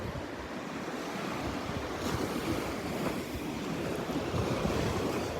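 Breezy wind and steady waves on a beach at Delnor-Wiggins on a Saturday morning: a continuous roar of surf and rushing wind with microphone buffeting, and no talk.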